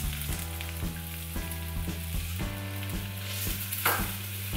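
Dim sum rolls frying seam-side down in a mini pan, a close, steady sizzle and crackle with a low tonal hum running underneath throughout.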